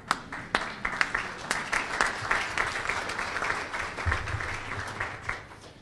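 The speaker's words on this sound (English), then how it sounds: "I'd like to really applaud you all for everything you did." Conference audience applause for the Estonian president, a moderately close crowd clapping with several sharp individual claps at the start, then a dense steady patter that holds for several seconds.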